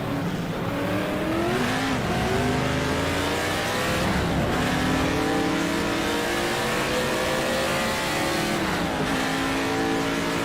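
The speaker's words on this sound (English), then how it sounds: "I just love the noise when you change it up" A historic touring car engine in the rFactor racing game revs hard and climbs steadily in pitch, with two upshifts that bring a brief drop and flutter before it pulls again, loud and continuous.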